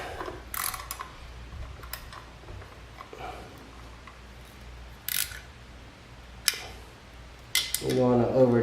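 A ratchet tightens the bolts on the stator of an SSR 125 pit bike, with short bursts of clicking at an irregular pace, close up and fairly quiet, separated by small handling noises.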